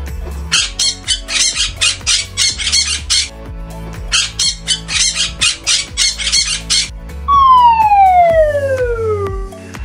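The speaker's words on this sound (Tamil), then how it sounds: "கிளி parrot." Loud, harsh parrot squawks repeat in rapid bursts, alone, followed by a descending whistle-like tone near the end.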